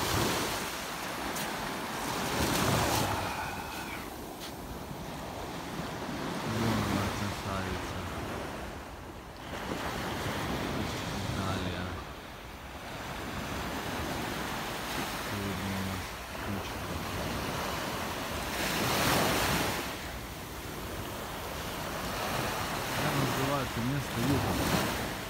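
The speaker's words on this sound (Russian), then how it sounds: "Шум волны." Waves of the Adriatic Sea off the Italian coast wash in with a steady surf roar under gusty wind buffeting the microphone, swelling and receding every few seconds with no speech.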